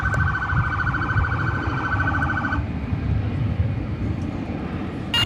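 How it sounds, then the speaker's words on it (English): Siren wailing at DFW airport, a steady rising-and-falling tone heard at moderate distance for about half the time before it cuts off, over a broad roar of aircraft and airfield noise. "if you're hearing those sirens"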